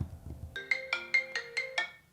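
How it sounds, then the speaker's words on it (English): A phone ringtone chimes in five or six evenly spaced bright electronic tones, clear and close, after a brief low muffled sound at the start. "Pick up that phone"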